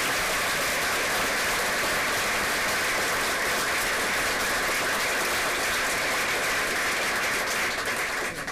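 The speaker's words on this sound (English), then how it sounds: "if we can just give the students another round of applause" An audience at a county board of education meeting applauds students, a thick continuous wash of clapping that holds evenly for several seconds, loud and unbroken.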